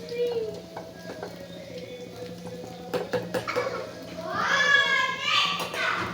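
Soya kebabs crackle and sizzle as they fry crisp in hot oil, with steady bubbling throughout and some stirring. Children's voices chatter in the background, growing livelier toward the end.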